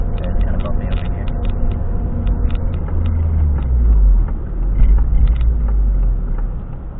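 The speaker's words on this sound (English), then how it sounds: "is that a car coming?" A car drives past nearby on a bumpy road, a low rumble that swells and fades over several seconds, with scattered clicks and knocks heard alongside it.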